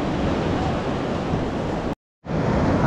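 Sea waves washing onto a crowded Goa beach, a loud continuous roar of surf that cuts out abruptly for a moment and then resumes.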